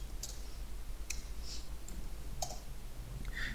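Computer mouse clicks, about five sharp, bright ticks spaced irregularly across a few seconds over a low steady background hum, with no talk.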